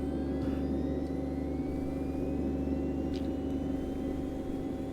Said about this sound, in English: Start up that right engine.